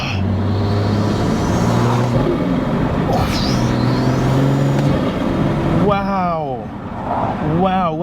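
A BMW M240i fitted with an MST intake drives in fifth gear under a loud, continuous engine drone, then lets off so boost releases in whooshing, fluttering bursts while a person talks over it.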